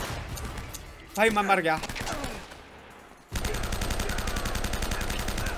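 Rapid bursts of automatic gunfire in Uncharted: Drake's Fortune Remastered, a dense, sustained volley close by that starts abruptly after a brief shouted voice and a quieter stretch.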